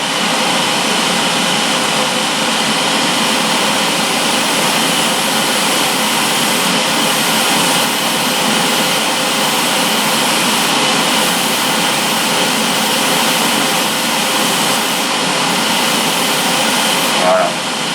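An airbrush sprays a light mist of Jet Exhaust metallic paint onto the chassis of a Revell Mercedes-AMG GT model car, a steady, loud hissing rush of air that runs unbroken throughout with no pauses.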